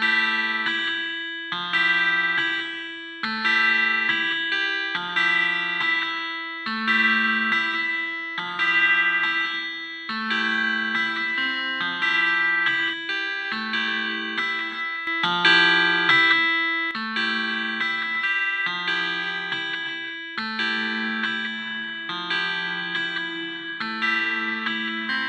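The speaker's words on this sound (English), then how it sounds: "The 21st best free reverb VST is DX Reverb Lite by Nweta." Synth notes and chords play in a steady repeating rhythm, washed in a long reverb tail from the DX Reverb Lite plugin by Nweta, with a dense, ringing, continuous sound and no talking.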